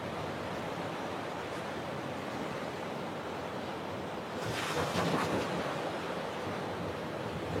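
Ocean waves washing in a continuous soft rush, swelling a little louder midway as a wave breaks, with wind-like hiss throughout.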